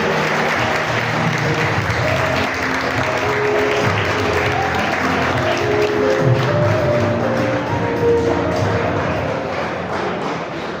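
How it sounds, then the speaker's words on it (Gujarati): A large audience at a college annual function in Visnagar claps steadily, a dense, even roar of applause holding at full strength from start to finish. "જોરદાર તાળીઓના ગડગડાટ."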